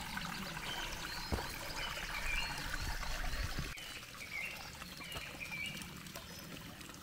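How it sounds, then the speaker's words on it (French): A small waterfall on a little stream in Tréhorenteuc, Brittany, trickles and splashes continuously over rocks, a faint, steady babbling with soft bubbling detail. "Des petites cascades là, mini cascade, petite eau,"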